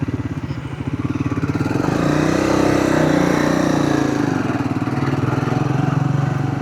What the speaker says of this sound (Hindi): तीसरे गियर में उठा दी थी मैंने।